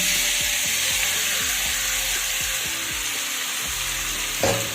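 Mashed taro stolons go into hot oil with black cumin in a pan, producing a loud, continuous close sizzle with irregular scraping and stirring noises throughout.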